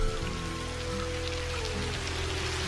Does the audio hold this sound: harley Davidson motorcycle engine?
no